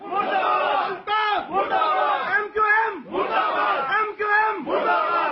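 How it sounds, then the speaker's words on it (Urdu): Crowd of Pakistani community members in Hong Kong chanting slogans against the MQM leader, loud rhythmic group shouts in repeated phrases separated by brief pauses. "اس موقع پر پاکستانیوں نے ایم کیو ایم اور اس کے قائد کے خلاف شدید نعرے بازی بھی کی۔"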